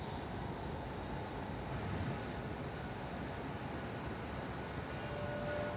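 A Singapore Airlines Boeing 787 Dreamliner rolls for takeoff at Perth Airport, a steady broad jet engine roar heard from a distance, fairly faint and constant throughout, no talking.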